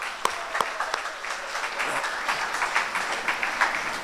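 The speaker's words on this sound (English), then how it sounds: "A round of applause to all of them." Audience at a scouts youth awards ceremony in a city hall claps in a steady patter of many hands, a few sharp individual claps standing out early before the applause settles into an even, moderately loud wash.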